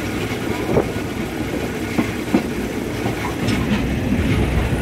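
Third-class train on the Korat to Nong Khai line rolling along with a steady rumble and rhythmic clickety-clack of wheels over rail joints, heard from inside the carriage.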